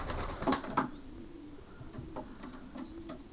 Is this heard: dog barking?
no